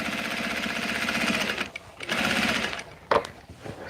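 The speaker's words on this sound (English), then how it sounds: "Trying to stitch over those ends really good." A sewing machine stitches back and forth over the fabric ends of a handmade baby blanket, running in a steady mechanical whir with brief pauses and restarts, close and fairly loud.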